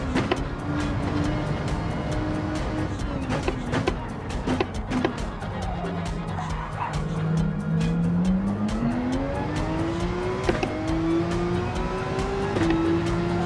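Race cars in the Gran Turismo 7 video game, played in VR, with a Ferrari closing in: a continuous loud engine drone rises and falls as the cars accelerate, with brief tire squeals and no talking.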